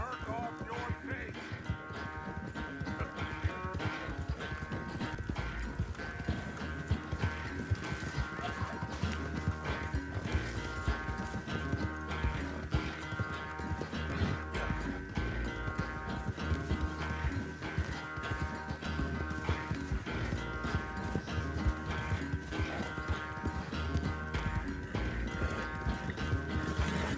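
Horse hooves gallop continuously in the Red Dead Redemption II video game, with a steady clip-clop rhythm, occasional neighs and a game score underneath, and characters talking over it.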